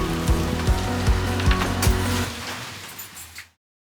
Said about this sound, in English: Gotta love this rain